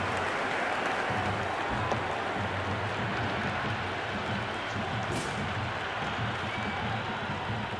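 Crowd applause from spectators at a Sri Lanka vs Pakistan T20I match in the Cricket 26 video game, a steady, dense wash of clapping and cheering that holds at an even level throughout, with no speech over it.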